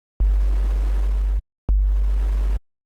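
Noise bass synth patch built in Serum with a punchy kick-like attack transient: two loud sustained bursts of hissy noise over a heavy low body, each starting abruptly and cutting off, separated by a brief silence.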